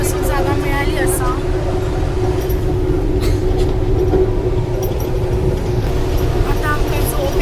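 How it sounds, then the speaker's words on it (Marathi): A passenger train rolls along with a steady low rumble from the carriage, and faint squeals and clatter rise now and then while people talk nearby. "आता फायनली आम्ही ट्रेनमध्ये चढलो आहोत."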